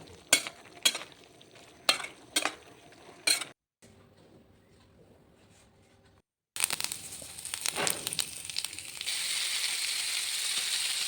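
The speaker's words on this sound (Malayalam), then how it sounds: "ഇരുമ്പ് ചട്ടിയിൽ ഇട്ടാണ്ട ഞാൻ മീൻ വറക്കണം" Fish fried in an iron pan: a few sharp scraping stirs, a quiet pause, then a loud, steady sizzle of frying that grows denser toward the end.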